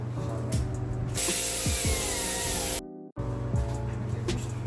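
A loud, steady hiss of weld-through primer sprayed from an aerosol can runs for a couple of seconds, cutting off abruptly, amid workshop noises and clatter before and after, during a 1960 Cavalier CS-64c Coke machine restoration.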